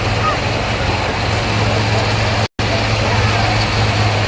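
A turbocharged 9500 limited pro stock pulling tractor with a maximum 3-inch turbo and no intercooler roars at a tractor pull in Mound City, Missouri, loud and steady with one brief dropout.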